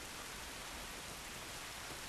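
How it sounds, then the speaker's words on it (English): Steady broadband hiss of heavy rain in The Last of Us, outside beyond the quarantine zone. The downpour is dense and uniform, a constant wash with no distinct drops, and no voices are heard over it. "This rain ain't gonna do us any good."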